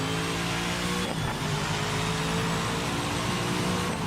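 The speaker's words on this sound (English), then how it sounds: "But the sound of the actual car is really nice." Lister Storm race car engine in Project Motor Racing, a loud steady roar with a brief shift in pitch near the start, then a constant drone running alone.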